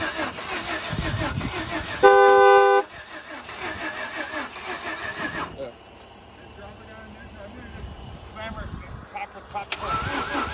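A Jeep Grand Cherokee engine runs and revs, joined by a brief loud horn blast, with people talking over it throughout.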